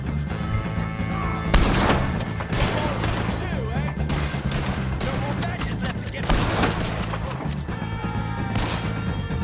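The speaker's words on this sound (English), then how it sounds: "If you can hear me, shoot some of these O'Driscolls!" Sustained gunfire from a Red Dead Redemption 2 shootout against O'Driscoll gang members, dense overlapping shots and bursts running throughout, loud and continuous, with shouting voices and music layered underneath.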